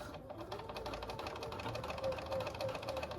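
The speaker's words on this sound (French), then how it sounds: "on va aller coudre tout de suite. Hop, nous voici avec notre burrito, c'est un peu encombrant, mais on coud à 1 cm." A sewing machine stitches a seam on a men's short-sleeved shirt, a steady fast rhythmic whir and clatter running throughout at moderate distance, with a faint voice in the background.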